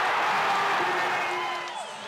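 A basketball arena crowd roars and cheers after a windmill dunk by Dayton's Toppin, a loud sustained wash of voices and whoops that slowly eases off over two seconds.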